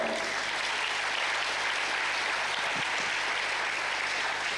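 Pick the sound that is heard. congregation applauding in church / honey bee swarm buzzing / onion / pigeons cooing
congregation applauding in church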